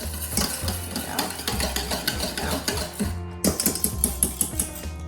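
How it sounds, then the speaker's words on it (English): Milk and vegan butter whisked together in a bowl for gluten-free walnut zucchini muffins, a busy run of rapid metal clinks and scraping strokes, close and steady, with a brief pause before the rhythmic whisking resumes. "And then we'll mix the milk and the butter together at the same time. Whisk that in."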